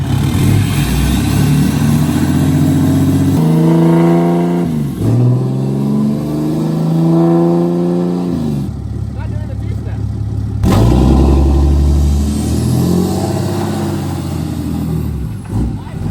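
A 4th gen Cummins diesel pickup with a six-speed and over 1000 hp starts cold, then settles into a rough, throaty idle and revs in rising, whining surges, close and loud, with people talking over it.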